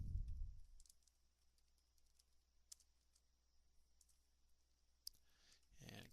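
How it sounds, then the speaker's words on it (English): A computer mouse clicks while saving a Microsoft Word document, a few sharp isolated clicks spread across a quiet stretch, with a soft low thump at the start and some rustle at the end. "So let's go ahead and click Save"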